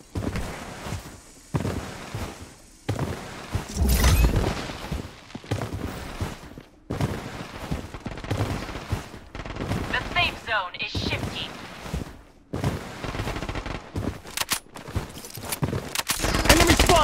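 Gunfire in the mobile shooter Bloodstrike, repeated bursts of automatic shots separated by short gaps, loud and close, with game voice callouts mixed in between.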